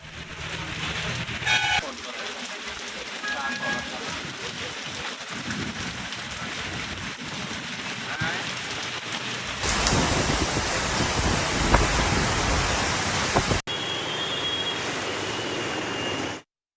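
Heavy rain pouring in Hyderabad, a dense, steady hiss of downpour with some wind, shifting between several loud outdoor scenes.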